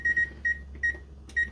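A kitchen timer beeps as it is set for soup cooking, five short bright electronic beeps at uneven intervals, close and clear with faint room hum beneath.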